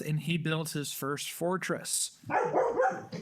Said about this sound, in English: And that's our dog.